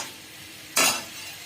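A single quick stir scrapes through banana flower curry in a pan after sugar is added, one short, sharp stroke over a faint background sizzle.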